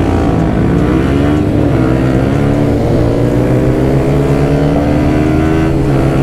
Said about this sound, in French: Oh, le shifter sur sa moto.